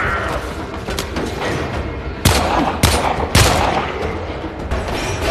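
Gunfire crackles through a Warframe battle in a rapid, dense stream, with three heavy booming shots standing out over the chatter of weapons. A voice can be heard faintly underneath.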